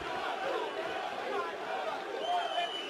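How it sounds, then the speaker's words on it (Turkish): Arena crowd at a kickboxing fight roaring and cheering steadily, a distant wash of voices beneath a commentator speaking close up. "Tezahüratlar at safhada."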